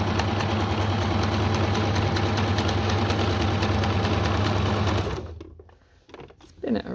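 A sewing machine runs steadily while stitching the first stage of a machine appliqué, a loud continuous whirring hum that stops abruptly near the end, followed by quiet handling sounds.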